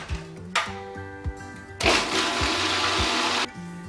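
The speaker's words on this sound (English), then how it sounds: "We are just going to blend this and let these two flavors just meld together." A kitchen blender whirs through tahini for hummus, with a loud, steady grinding burst in the middle framed by quieter clicks and low motor hum.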